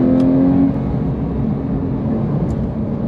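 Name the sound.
Porsche 911 GT3 997.2 engine accelerating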